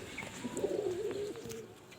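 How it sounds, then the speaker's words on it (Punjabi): Pigeons coo softly in one drawn-out, wavering call outdoors while they come out to peck at scattered grain. Brief faint chirps and light background noise surround it. "ਉਹ ਲਓ ਕਬੂਤਰ ਆ ਗਏ ਬਾਹਰ ਦਾਣਾ ਖਾਈ ਜਾਂਦੇ ਆ"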